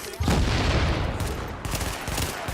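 Grenade blast in The Division, a loud, sustained roar of explosion and gunfire-like crackle filling the whole clip at close range, with no pause.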